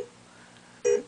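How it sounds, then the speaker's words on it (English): A short electronic beep from the opto receiver of a Williams Star Trek: The Next Generation pinball machine, a single brief tone after quiet hum, sounding alone and close. "if I hear that beep"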